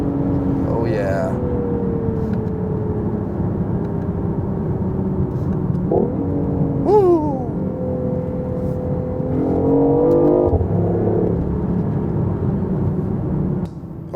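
A BMW i8 hybrid supercar accelerating on the road, a steady droning engine and tyre rumble with rising and falling tonal whine, heard from inside over continuous noise with some talk.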